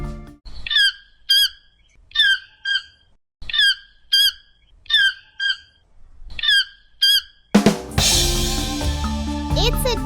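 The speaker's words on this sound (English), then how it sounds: "In the treetops, another bird calls." A toucan calls from the jungle treetops: about eight sharp, harmonic squawks in a steady repeating rhythm, fairly close and clear, then an abrupt loud burst of broad noise takes over at the end.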